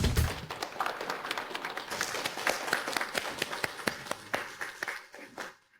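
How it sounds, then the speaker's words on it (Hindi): Audience applause welcoming a man to the stage to give a speech, sustained crowd clapping with distinct sharp claps that thin out and fade to near silence at the end. "आइए अब हम जोरदार तालियों के साथ स्वागत करते हैं शुआंग लोंग जी, तुआन के प्रभारी मिस्टर जिन का मंच पर भाषण देने के लिए"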